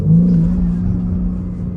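A BMW G80 M3 engine rises in a loud, smooth rev under hard acceleration inside the car, a steady, climbing drone lasting under two seconds.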